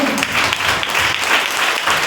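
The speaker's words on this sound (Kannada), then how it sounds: "ಶಾಂತಿಗೋಸ್ಕರ ಜೋರಾಗಿ ಎಲ್ಲ ಚಪ್ಪಾಳೆ" A congregation at a Christmas service breaks into loud, sustained applause, a dense wash of clapping from many hands with a little voice mixed in.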